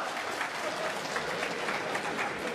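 A crowd at a snooker quarter-final between Ding Junhui and Kyren Wilson at the International Championship applauds steadily, a dense, sustained clapping that carries through the whole stretch.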